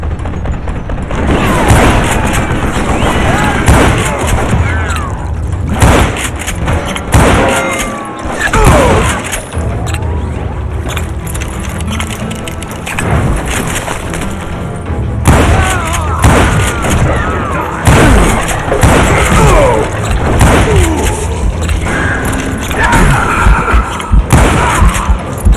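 Loud, dense gunfire rains down from above in a western video game, with repeated booming shots and thuds over a continuous game soundscape.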